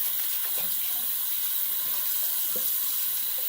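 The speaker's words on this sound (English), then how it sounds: "So right now I'm just putting some cold water in my brush." Cold tap water runs steadily from a faucet onto a shaving brush, an even hissing stream with faint splashing, close and constant with no talking.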